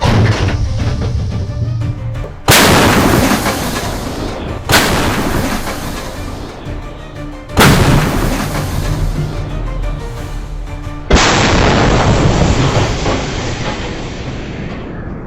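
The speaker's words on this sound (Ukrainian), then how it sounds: "Постріл!" Four heavy artillery gun blasts boom at intervals of a few seconds, each a loud sharp crack followed by a long rumbling decay.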